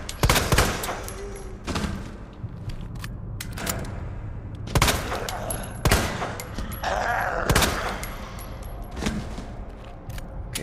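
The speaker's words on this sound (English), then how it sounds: "Get ready to fire." Loud gunshots ring out in Resident Evil 2, several sharp isolated blasts spaced a second or two apart with clattering mechanical handling between them, no voices.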